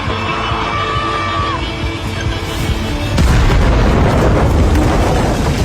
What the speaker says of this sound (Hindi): वह विस्फोटक के फटने से ठीक पहले समय पर बाहर निकलने में सफल रहा।